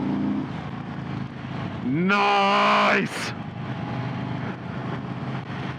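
A 2022 Indian Chief motorcycle's engine while riding, a steady low drone under wind noise that swells into a loud, rising rev for about a second before settling back, with a brief spoken remark.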